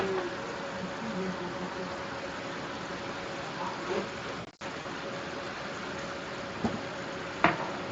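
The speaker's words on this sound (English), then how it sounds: "You hear that sizzle." A steady hiss of flank steak sizzling in a hot pan, continuous and close, with a brief dropout midway and a couple of small clicks near the end.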